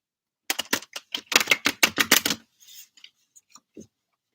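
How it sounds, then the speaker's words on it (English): A rapid run of crisp riffling clicks as a deck of cards is shuffled, followed by a few softer taps and shuffles, close and quiet. "I'll shuffle the card while I get some questions in."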